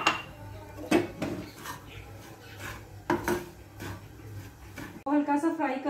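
Semolina (suji) is lightly fried in a pan, with a utensil scraping and clinking against the metal in irregular strokes, followed by a person speaking.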